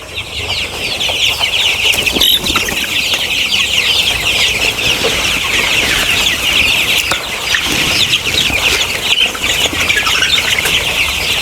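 Sonali colour-bird chickens suffering from Gumboro disease fill the shed with an unbroken wash of high, overlapping cheeps and clucks, steady and close, with a few faint flaps and bumps.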